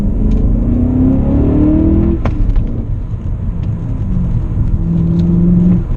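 Car engine revving and accelerating from inside a four-door car, a loud steady rumble with rising whine as the revs climb twice, the second run building near the end.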